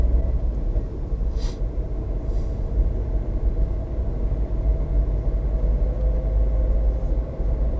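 A Volkswagen Move Up small car accelerating, heard from inside the cabin as a steady low engine and road rumble that holds throughout without any talking.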